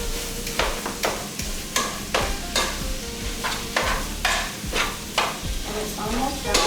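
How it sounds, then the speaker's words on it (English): Sausage sizzles and spits in a hot pan, with repeated scraping stir strokes coming in a steady rhythm, close and fairly loud. "I'm cooking my sausage"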